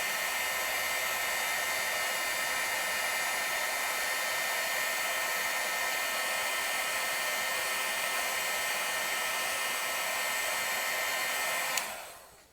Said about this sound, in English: The embossing powder is melting